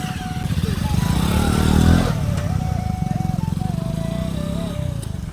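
A motorcycle engine idles with a steady pulsing throb on a rough rural track near paddy fields. It swells briefly, then settles into a loud, even putter close by.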